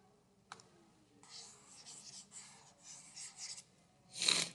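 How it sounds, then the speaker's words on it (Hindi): Writing being erased from a classroom board: several soft, dry rubbing strokes in bursts, fairly faint and close, ending with one sharper scrape. "अब इसको इरेज कर देते हैं"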